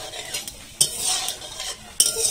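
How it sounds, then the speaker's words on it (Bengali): Mustard seeds and dry red chili sizzle in hot mustard oil in a kadai, a soft continuous fry broken by a couple of sharp metallic clinks from a spoon stirring. "কড়াই গরম হয়ে গিয়েছে, এবার ফোড়না দেব"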